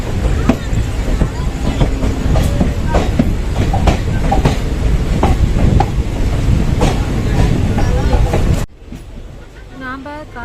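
A train rolls along the rails with loud rhythmic clattering and rumbling, close and continuous, then abruptly quiets near the end.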